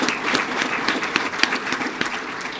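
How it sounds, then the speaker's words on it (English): Applause from an audience at a police swearing-in and promotion ceremony, a steady dense patter of many hands clapping throughout, fairly close and loud, with no talk over it. "So please let's give him a round of applause."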